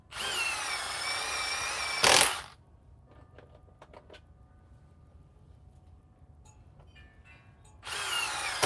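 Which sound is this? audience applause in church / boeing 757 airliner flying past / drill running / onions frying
drill running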